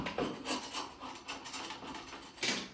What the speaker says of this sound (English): you just want to come back here and just scrape it really, really well.